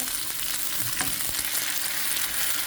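Sea bream fish laid on a hot pan sizzles steadily, a close even fry with a couple of soft contact thumps, no talking.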